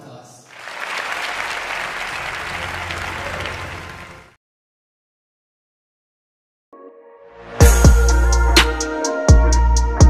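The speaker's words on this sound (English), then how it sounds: "Let us give her a big round of applause." An audience at a TED-style talk on unemployment in the Philippines gives about four seconds of steady, dense applause. Silence follows, and then a loud voice begins.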